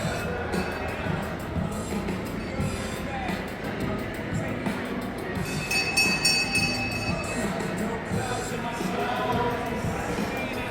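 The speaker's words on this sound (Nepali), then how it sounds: "ट्रेन आयो यता" Indoor shopping mall with a train ride passing through, a steady rolling rumble and faint wheel squeal spread over the whole stretch, under crowd murmur and nearby talking.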